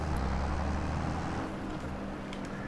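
A tractor in Farming Simulator 22 pulls a large drill with a steady low engine drone that stays close and even throughout, with no talk.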